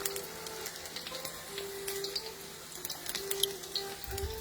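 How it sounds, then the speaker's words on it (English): Peanuts sizzle in a pan on medium heat, a steady soft crackle and hiss running the whole time with small pops, and no talking over it. "So I'm going to go ahead and let that sizzle."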